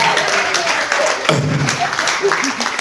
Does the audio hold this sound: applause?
yes